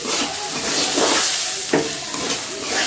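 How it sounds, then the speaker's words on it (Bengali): Vegetables for veg pulao fry and get stirred in a pan, a steady loud sizzle and hiss with scraping stirs, including a sharp scrape near the middle, and no talking. "সাথে ভেজে নিচ্ছি"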